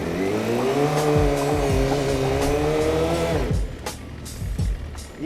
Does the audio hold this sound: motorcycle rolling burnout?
yes